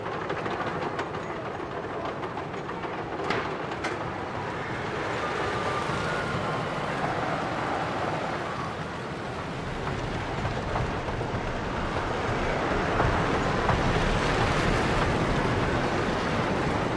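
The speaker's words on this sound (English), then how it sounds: "We will be taking a ride on the scenic railway shortly." Dreamland Margate scenic railway wooden roller coaster ridden from the front seat at a seaside amusement park: a continuous loud rumble and clatter of wheels on track with rushing wind, steady throughout and swelling slightly toward the end.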